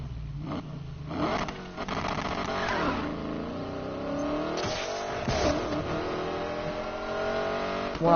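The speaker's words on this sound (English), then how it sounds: "you don't have to do burnouts in this" A car doing burnouts in the Need for Speed Payback video game, its engine revving hard and holding a loud, rising roar with surges and tire noise throughout, up close and without talk.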